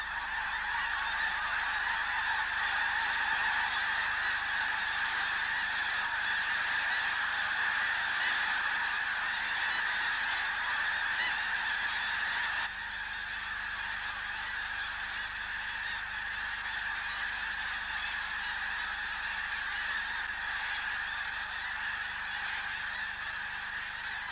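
A flock of young geese honks nonstop on a frost-covered patch of taller grass, a dense, steady chorus of overlapping calls that drops slightly in level partway through and carries on without pause.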